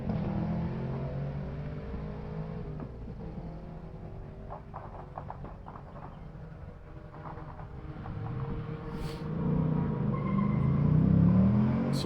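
A Cosworth-powered Saleen race car running on the Summit Point track: a steady engine rumble at a distance, with a few faint clicks, before the engine swells louder and nearer toward the end.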